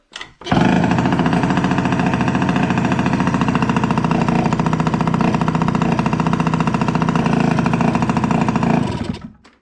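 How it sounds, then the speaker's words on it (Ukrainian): A Piaggio Liberty scooter engine with no exhaust fitted starts and runs loud and close, a harsh rattling buzz with no muffling, then cuts off near the end. "Завівся, скутер працює, тільки гримить, бо немає вихлопної"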